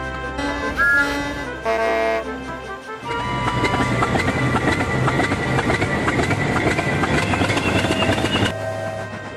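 A steam engine hauling heavy coaches runs smoothly along the line, giving a steady loud rumble and rhythmic clatter of wheels on track, with tonal hooting and whistle-like sounds at the start before the running noise takes over.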